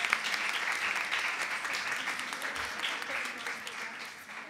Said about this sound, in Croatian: Može jedan pljesak iz publike.